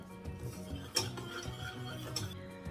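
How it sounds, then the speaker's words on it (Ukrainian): A blender's whisk attachment stirs chocolate paste in a bowl, giving quiet, steady scraping and clinking with a couple of sharper taps against the side, close and alone. "потрібно ретельно перемішати вінчиком"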